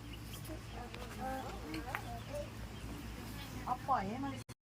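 Pheasants at a zoo give several short clucking, rising calls, near and fairly clear, spread through the clip while people talk in Thai in the background before a sudden cut to silence.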